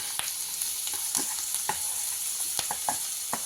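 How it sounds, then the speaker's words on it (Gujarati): Chopped onions frying in butter, a steady hiss of sizzle broken by several sharp stirring scrapes and clicks against the pan, close and fairly loud with no talk. "સૌથી પહેલાં આપણે ઝીણી સમારેલી ડુંગળીનો વઘાર કરશું।"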